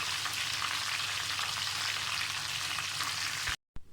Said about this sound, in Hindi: फ्राई कर लें इसको एक साइड से और 1 मिनट दूसरी साइड से फ्राई कर लें